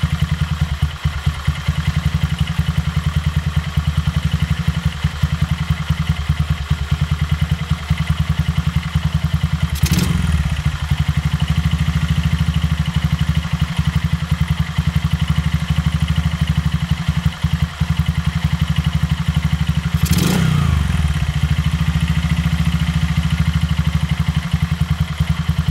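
A motorcycle engine converted to run on E100 neat ethanol idles steadily with no throttle, a continuous low rumble throughout, broken by two brief louder bursts about ten seconds apart.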